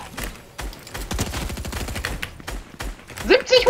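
Rapid bursts of automatic weapon fire in Fortnite crackle in quick repeated volleys, with a voice speaking over them and a sharp pickup chime near the end.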